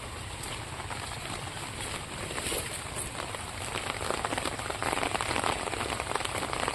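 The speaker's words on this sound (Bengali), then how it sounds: "বৃষ্টি পড়ে রে, দাঁড়া ছাতালেই" Steady rain pours down on a village, a dense, even hiss of drops hitting surfaces that holds constant throughout and swells slightly toward the end, with no voices over it.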